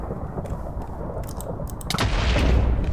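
A burst of booming, crackling blasts from an exploding sword in Minecraft, building louder toward the end, with no voices.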